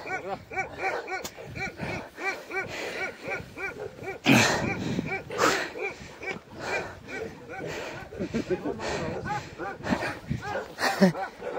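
A large Tibetan mastiff barks in loud, scattered bursts, with a voice heard in the background between the barks.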